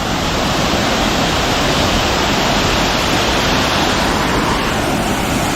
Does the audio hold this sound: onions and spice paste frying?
no